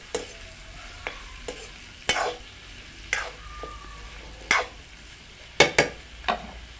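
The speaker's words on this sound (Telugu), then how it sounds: "వంకాయలు వేసి మంచిగా కలిపి ఆలుగడ్డలు వేసుకోవాలి మంచిగా కలుపుకోవాలి" Brinjal and potatoes being stirred in a hot pan: a low sizzle underneath sharp, irregular spatula scrapes and knocks against the metal pan, several in quick succession near the end, close and without voices.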